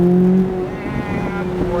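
Supercar accelerating hard on a driving course, a loud close engine note with a steady rising tone that dips briefly and then keeps pulling.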